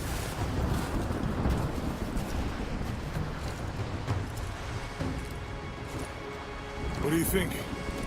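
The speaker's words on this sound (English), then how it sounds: "Storm's getting closer." Storm noise in Rise of the Tomb Raider: a steady wash of wind and rain with low rolling thunder running throughout, swelling into a heavier rumble near the end.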